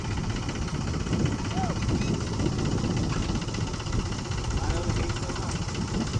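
A farm tractor's engine runs steadily in a field during sowing, a continuous low, throbbing drone that stays close and loud throughout.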